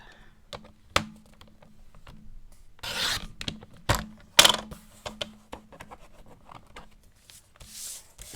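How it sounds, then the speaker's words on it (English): A scoring tool presses and drags along an envelope tab in a few short scratchy strokes, close and fairly faint, with light paper rubbing and handling between them. "And then score the envelope tab."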